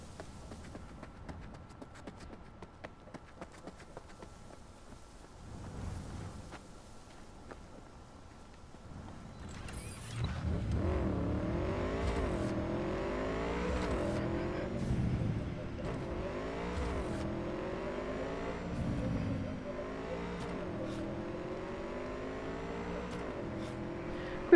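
A motorcycle in Cyberpunk 2077 is summoned in Night City. Quiet game ambience gives way to the bike arriving partway through, then its engine revs up and down repeatedly, loud and close, in a rising and falling pattern.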